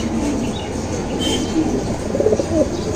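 Pigeons coo at a pigeon farm in soft repeated low calls over a dense, constant background of farm noise, with no talking.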